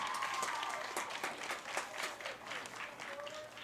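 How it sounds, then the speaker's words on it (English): Applause from a crowd at a high school football game, honoring a senior player's mother: dense clapping that swells then gradually thins over a few seconds, with some voices mixed in. "Let's give her a round of applause for Emma."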